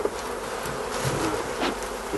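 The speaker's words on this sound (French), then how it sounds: "Il faut bien balayer les abeilles de manière à ne pas prendre la reine si possible" Honeybees buzz steadily at an open hive during a honey harvest, a dense continuous hum close by with slight swells in loudness and no voices.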